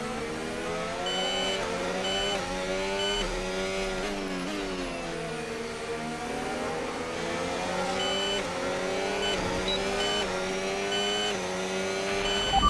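F1 cars racing in the F1 25 video game during the Hungarian Grand Prix, a continuous high engine whine rising and falling through gear changes and corners, loud and sustained with no voices.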